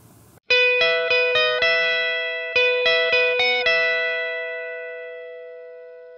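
A clean, unaffected electric guitar plays a song lick alone: a quick run of bright plucked notes, a pause, a second run, then a long natural decay.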